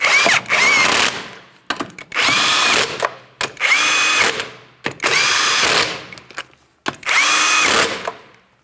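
Power tool tightening 19mm lug nuts on a Ford Edge rear wheel, five loud whirring bursts about a second long with short pauses between them, close and alone.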